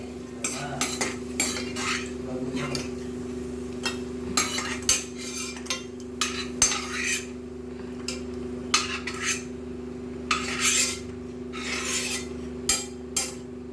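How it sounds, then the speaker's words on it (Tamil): A metal spoon scrapes and stirs flattened rice (aval) roasting in ghee in a pan over a slow flame, giving repeated close rasping strokes over a low steady stove hum. "அந்த நெய்யில் போட்டு ஸ்லோ ஃப்ளேமில் நல்லா வறுக்கணும்"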